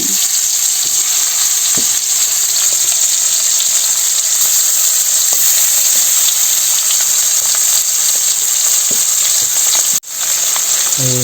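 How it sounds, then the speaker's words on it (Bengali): Turmeric-coated fish frying in hot oil in a village kitchen gives a loud, continuous sizzle with occasional faint clinks; no one speaks. "প্রথমে মাছগুলো বেজে নিতে হইব"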